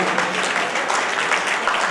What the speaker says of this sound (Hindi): एक बार ताली बजा के स्वागत करते होगा